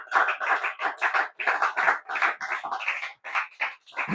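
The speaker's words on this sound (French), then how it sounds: "Acclamons la parole de Dieu." A church congregation applauds during a sermon on the Kingdom of God, with steady rhythmic clapping and raised voices that come in bursts for about four seconds.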